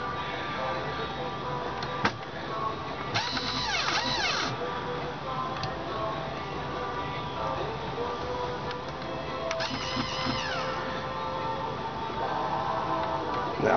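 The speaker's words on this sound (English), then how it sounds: "the sound you were hearing was the motor spinning and not engaging with that gear, kind of rubbing against it" A Brother AX-350 electronic typewriter with a faulty print hammer and ribbon lift clutch, its motor spinning without engaging the gear and rubbing against it, gives a continuous close whirring with intermittent scraping and ticking, sometimes with talk over it.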